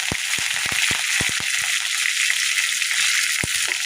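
About two grams of curry leaves fry in a pan for a tomato chutney, giving a steady, close sizzle dotted with small pops and crackles.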